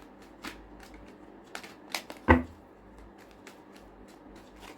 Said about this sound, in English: Okay, so just do another shuffle.